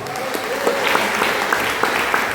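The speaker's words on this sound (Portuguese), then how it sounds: "Vamos receber o jovem Isaac com as palmas bem fortes para Jesus" A church congregation claps loudly and continuously at an evening service, a dense, close wash of palms welcoming a young man to the front.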